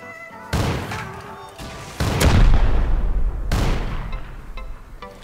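A loud explosion in the Rust video game bursts through a half stone wall, a heavy boom at about two seconds with a long rumbling tail, set between sharper blasts before and after.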